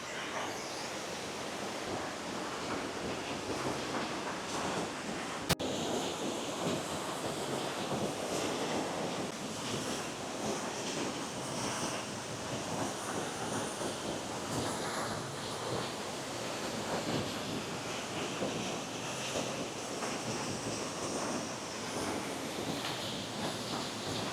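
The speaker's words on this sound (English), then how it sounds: "This is one of the most beautiful waterfalls I have ever seen." Banjo Falls, a waterfall in Japan, roars as a steady, dense wash of falling water that holds an even loudness throughout, close and continuous with no voices.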